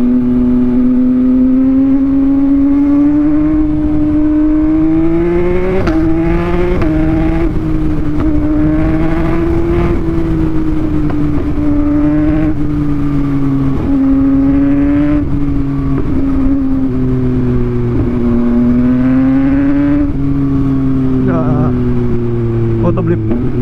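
Motorcycle engine with anti-wheelie switched off, revving hard under throttle, its loud, close harmonic drone rising and falling as auto-blip downshifts bark smoothly between gears, with a rider talking over it.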